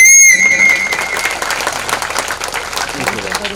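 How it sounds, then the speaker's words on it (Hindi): Devotees at a Bhagavat katha gathering applaud a devotional tableau; a short tonal sound fades as crowd clapping takes over, moderately loud and continuing under a faint voice. "एक बार जोरदार तालियों से स्वागत करें"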